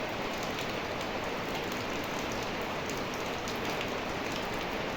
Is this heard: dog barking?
no